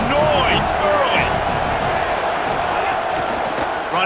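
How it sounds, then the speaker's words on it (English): Stadium crowd at a college football game, Miami vs USC, roaring steadily and loudly throughout with cheers and whistles, while a play-by-play commentator talks over the noise. "This crowd bringing the energy and noise early."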